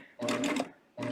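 A coverstitch sewing machine stitches a knit hem in two loud, close bursts of rapid mechanical whirring separated by a short pause.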